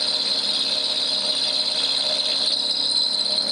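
A 12 mm milling cutter roughs out metal with 5 mm passes on a mini lathe. It gives a steady, loud, continuous high-pitched machining whine with no pauses.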